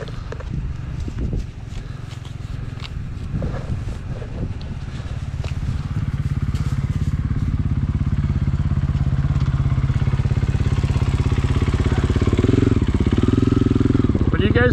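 Motorcycle engine rumbling near a rest stop, growing louder and more sustained as it rides off trail, with irregular thumps and rustling early on and no talk.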